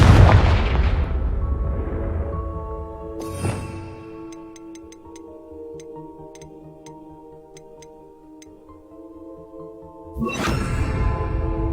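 The Confringo fire blast spell in Hogwarts Legacy opens with a loud booming blast that decays into a ringing tonal hum with faint ticking. A sharp crack follows, and a second heavy burst comes near the end.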